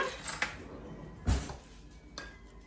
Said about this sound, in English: I think I will get a spoon